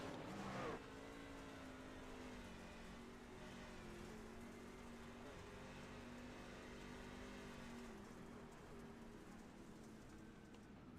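Racing trucks roar around the Eldora Speedway dirt oval as a truck's engine blows, with a sharp burst at the start giving way to a sustained, faint, distant howl of engines.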